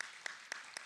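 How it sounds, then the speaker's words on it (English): An audience claps at a Q&A stage event. The applause is faint and steady, with a few sharper claps standing out, and the fragment is very short. "Give him a round of applause"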